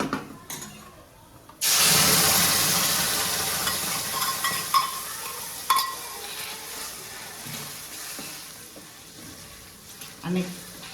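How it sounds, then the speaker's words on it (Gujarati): A loud burst of sizzling as a chili paste tempering with asafoetida hits hot oil for bhungla bataka, then a long crackling hiss with occasional clanks of a spoon, gradually easing. "હવે હિંગ નાખી છે અને પરબારી ચટણીનો વઘાર માર દેવાનો છે"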